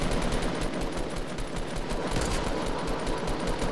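Dense, continuous video game gunfire with many weapons firing at once, a steady loud wash of rapid shots throughout with no gaps.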